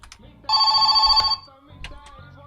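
A landline telephone in the video game My Summer Car gives one loud, shrill electronic ring lasting almost a second, close and dominant, with a low engine-like hum and brief speech around it.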